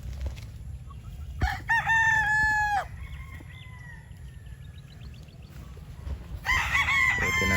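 A bulik gamefowl rooster at a game farm crows clearly and close by, two long crows with a shorter call between and more crowing at the end, over a steady low rumble of background noise.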